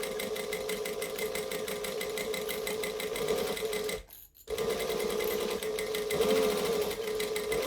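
A sewing machine stitches a bag in a loud, continuous mechanical whir with a rapid needle rhythm. It stops briefly near the middle, then starts again at the same steady pace, close up and with no voices.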